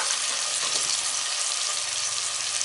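Chopped tomato sizzles with peas, carrots and beans sautéing in a pot for one-pot veg pulao, giving a steady, close hiss of frying oil with faint stirring scrapes and no talking.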